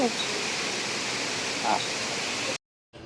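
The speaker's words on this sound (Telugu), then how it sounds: "Water falls." A waterfall rushes in a steady broadband roar inside the Garden of Caves in Meghalaya, heard continuously until it cuts off abruptly near the end.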